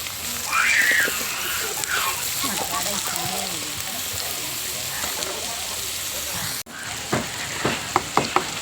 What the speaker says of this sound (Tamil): ஃப்ரெண்ட்ஸ் இப்போ வெங்காயம் போட்டாச்சு